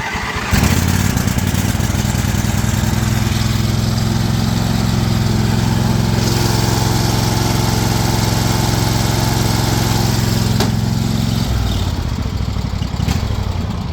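A garden tractor's small engine cranks, catches and runs at a steady, loud idle for several seconds before shutting off, with a couple of clicks near the end.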